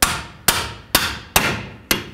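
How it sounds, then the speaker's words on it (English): A hammer strikes a lower control arm bolt on a 2001-06 Toyota Camry, landing five loud, sharp metallic blows at an even pace of about one every half second, with no talking. "I'm going to try and hammer it in the rest of the way"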